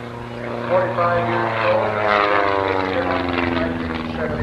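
A propeller aerobatic airplane at the 1989 Oshkosh airshow drones steadily overhead, its engine tone rising and falling slightly throughout while an announcer talks over it.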